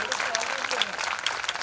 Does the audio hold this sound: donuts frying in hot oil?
no